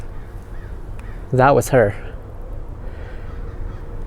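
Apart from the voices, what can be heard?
crows cawing in the background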